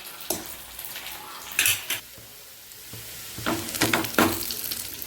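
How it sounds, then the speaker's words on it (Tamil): Onions fry to golden brown in a pan for a sambar tempering, a soft sizzle broken by a few sharp spoon scrapes and clinks against the pot, with no talking. "இந்த அளவுக்கு வெங்காயம் வந்து பொன்னிறமாக கோல்டன் ப்ரௌனில் நல்லா பொரிஞ்சிருக்கணும்"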